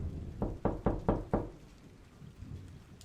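Five sharp knocks on a door in quick succession, loud and close, with a soft rumble of rain and storm noise continuing after them.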